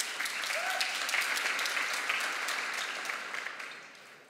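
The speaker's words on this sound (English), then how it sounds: "a round of applause, please, for Jordy" A conference audience at a PyData talk applauds as the speaker is introduced: loud, sustained clapping from a crowd that swells, holds steady, then fades out near the end.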